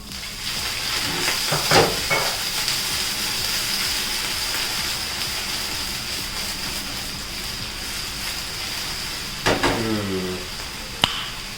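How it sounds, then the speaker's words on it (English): Wine is poured into a hot pan on a full gas flame to deglaze it while making linguine in white sauce, giving a loud, continuous broadband sizzling hiss with a few sharper bursts near the end. "Now it's time to add in the wine to deglaze the pan."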